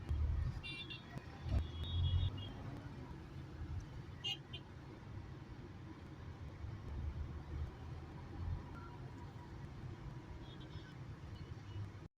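A car driving on a road, heard as a steady low engine and tyre rumble with a few brief bumps and faint, muffled voices in the background.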